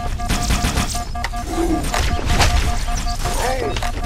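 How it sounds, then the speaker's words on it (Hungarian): Explosions and gunfire in the video game Halo: Combat Evolved, a dense burst of blasts and crackling shots with sustained game noise throughout, while a player talks over the action. "Na, az most fel is robbant."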